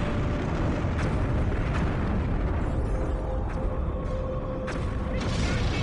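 A command ship blows apart under attack in the space strategy game Homeworld: Cataclysm, a dense, unbroken roaring blast that fills the whole stretch at high volume with crackling bursts layered through it.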